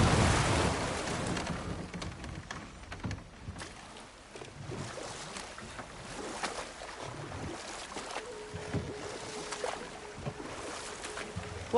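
Broad rushing water from a waterfall in the game God of War Ragnarok, a steady full-band roar that carries through the whole stretch, with occasional brief in-game sounds layered over it.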